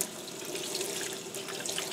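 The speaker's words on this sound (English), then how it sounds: "So I always make sure to rinse it with cold water at the beginning." Cold tap water runs into a sink, rinsing a freshly dyed tie-dye shirt, a steady bright splashing hiss heard up close and alone.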